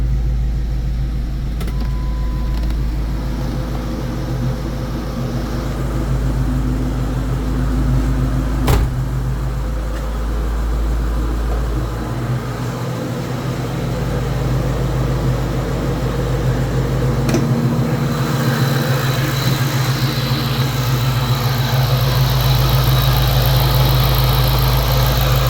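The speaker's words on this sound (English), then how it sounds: "So the fan should be on." Radiator cooling fan whooshing on a 2003 Mustang Cobra over the low steady rumble of the idling engine, continuous and close, with no talk.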